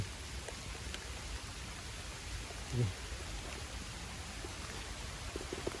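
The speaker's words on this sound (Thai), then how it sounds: "แล้วฝนตกแบบนี้นะ ดูดิ" Rain falls steadily outdoors in rural Thailand, a soft continuous hiss with one brief low thump partway through.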